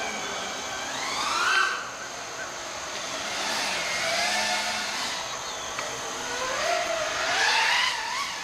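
A radio-controlled car's motor whines under throttle, its pitch sweeping up and down in repeated bursts over a steady background hiss, at moderate distance with no talking.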